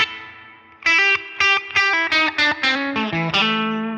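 An electric guitar plays a short run of plucked single notes through a Line 6 Helix reverb effect, each note ringing with a smooth tail, bright and clear, with no voices.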